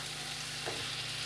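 Cucumber curry frying in a pan, a continuous close hiss and sizzle with a brief stirring scrape partway through.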